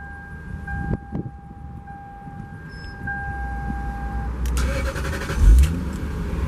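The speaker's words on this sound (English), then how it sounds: "you get that beautiful, typical Lexus V8 sound when you start it up" A 2002 Lexus SC430 V8 engine cranks and catches, settling into a deep steady idle that swells briefly louder, with a faint electronic tone beforehand.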